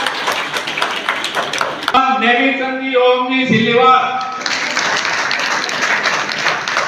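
A crowd at a Vishwakarma Jayanti celebration applauds donors as they are named, loud clapping rising over an announcer's amplified voice and a short stretch of tonal music.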